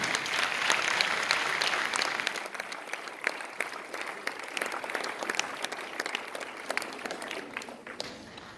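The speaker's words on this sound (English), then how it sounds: "A round of applause, ladies and gentlemen." Loud sustained applause from an audience at a prize-giving for a girls' final in Colombo, thick continuous clapping with sharp individual claps standing out, gradually easing toward the end.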